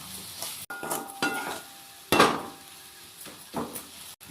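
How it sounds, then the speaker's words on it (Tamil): Masala with onion and tomato stirred in a pan for a Chettinad-style egg dish gives scattered scraping and clinking of a spoon against the metal, with a few sharper knocks amid a faint sizzle. "இப்போ நம்ம நல்லா கிளறி விட்டுக்கலாம்."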